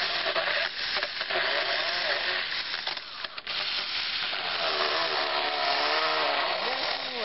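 A mini cordless handheld chainsaw cuts with a steady, continuous buzzing whine, briefly dipping midway before resuming at a constant level.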